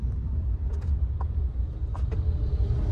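Road traffic in light drizzle near Monal, a low continuous engine rumble from nearby vehicles with a few faint brief clicks and hisses over it.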